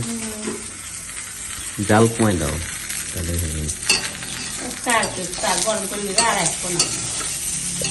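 Food stirring and sizzling in a pan while iftar is cooked at home, with a steady frying hiss, intermittent scraping of a utensil and a few clinks, heard beneath occasional nearby talk.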